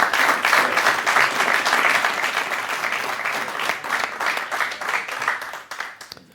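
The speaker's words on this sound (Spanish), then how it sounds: "Un aplaudiment, sisplau" Dense, sustained applause from a conference audience fills the room for several seconds, loud and even, fading slightly at the end.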